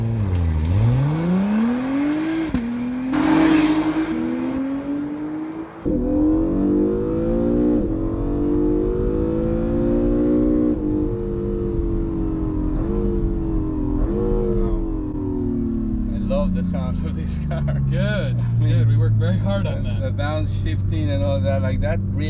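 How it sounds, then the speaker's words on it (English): 2017 Acura NSX with a twin-turbo V6 hybrid setup launches under launch control, its engine note climbing and falling through several rising sweeps as it accelerates hard, loud and continuous, with someone talking over it. "the motors give you that instant torque right off the line, and as the boost builds, it takes over from the motors"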